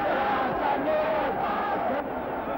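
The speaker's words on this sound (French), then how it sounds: "La foule mécontente l'entoure." An angry crowd at a funeral of a Pan African Congress leader in apartheid-era South Africa shouts and clamours together, a loud, continuous mass of raised voices close by.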